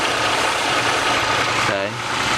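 A semi truck's diesel engine idles close by, a steady loud rumble with a suspected head gasket issue, a voice briefly audible near the end.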